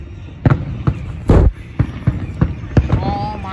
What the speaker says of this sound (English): Look at all these fireworks.